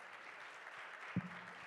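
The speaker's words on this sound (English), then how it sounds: "if we could give a round of applause for our panelists" A conference audience gives the panelists faint, distant applause, a soft and fairly steady patter of clapping with one brief louder knock near the end.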